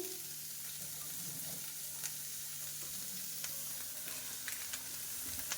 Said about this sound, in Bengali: ভেজিটেবিলগুলো আর একটুখানি চিকেন ছিল ওটাকে একটুখানি তেলের উপরে সতে করে নিলাম